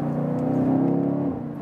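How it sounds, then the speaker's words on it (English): A 2020 BMW X5 M / X6 M Competition engine holds a steady, deep droning hum for under two seconds, then eases off slightly near the end; no voices are heard. "here the sound and acceleration is special, and you can just shift down a gear"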